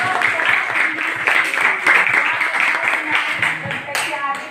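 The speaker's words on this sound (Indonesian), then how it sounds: "Ya, baik sekali, kita berikan tepuk tangan." Classmates clap for a student in a classroom, with a short, close burst of many hands and voices mixed in over the clapping.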